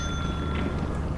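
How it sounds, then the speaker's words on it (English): A bell in Lethal Company rings with a sustained metallic tone over a dense, noisy rumble. "I love ringing the bell."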